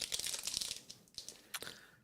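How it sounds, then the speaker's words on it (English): Someone munches a crunchy snack close to the mic, producing a run of quiet, irregular crisp crunches that thin out toward the end, with no talk over them. "I'm going to eat a crunchy while you talk."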